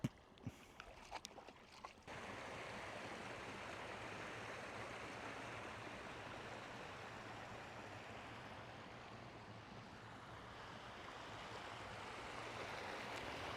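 A mountain stream on a Scottish Munro hike rushes in a steady, broadband wash of flowing water, close and continuous, with a few brief knocks at the very start.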